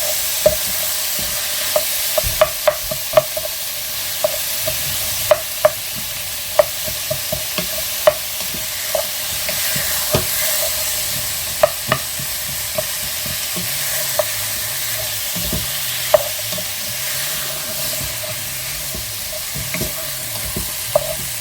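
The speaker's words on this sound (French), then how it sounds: "Donc là, on va faire colorer les oignons." Onions with thyme and bay leaf fry in a pot with a steady, close sizzle, punctuated by frequent sharp clicks and scrapes of a spoon stirring throughout.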